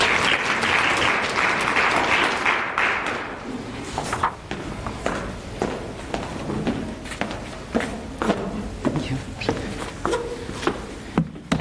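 A seminar audience gives a round of applause to welcome a speaker, a loud dense burst that thins after a few seconds into scattered, sharp individual claps and a few thuds of movement.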